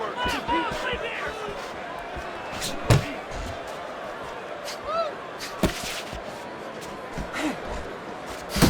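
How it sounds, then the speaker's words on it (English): Punches thud in a Fight Night Champion boxing simulation between Naoya Inoue and Nordine Oubaali, a few sharp impacts spaced out over steady crowd noise and commentary. "Little head knocking with that right hand."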